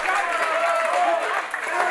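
Wrestling crowd cheering and applauding after a dive to the outside of the ring, a steady wash of noise with a commentator talking over it throughout.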